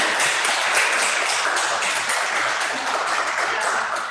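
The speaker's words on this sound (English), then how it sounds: "Let's give him another round of applause." Audience at an open-mic poetry night breaking into a warm round of steady applause, a dense patter of many hands clapping together without talk.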